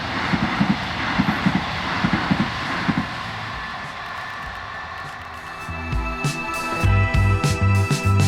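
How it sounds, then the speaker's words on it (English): A train runs along the Wharfedale line in Yorkshire, a broad rumble with low wheel-and-track tones and rising, pulsing mechanical hum as it passes at moderate distance, continuous without talk. "The last train went past."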